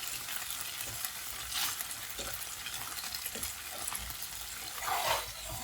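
Cooked pasta flash-fried in a hot pan, a steady broadband sizzle with a few stirring scrapes and brief louder hisses near the end, close and continuous with no talking.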